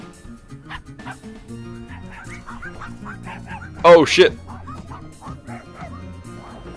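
Two pet dogs bark from the same room, several scattered yips and whimpers followed by a loud close double bark near the middle, while someone talks over the noise.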